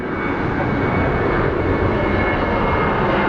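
Steady roar of a WestJet airliner's engines at Phoenix Sky Harbor International Airport, loud and continuous with no breaks, as if the plane is close by or taxiing.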